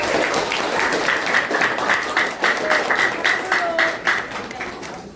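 Classroom audience applauding together after a student presentation, a steady wash of many hands clapping throughout with a little crowd murmur underneath.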